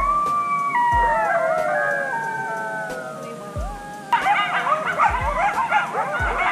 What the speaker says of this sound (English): Maybe you'll hear the coyotes from last night.